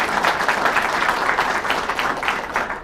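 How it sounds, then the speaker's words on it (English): Sustained applause from a crowd at a governor's bill-signing ceremony, honoring the legislators; dense, steady clapping at moderate loudness throughout. "a round of applause for all the legislators and the folks who made that possible"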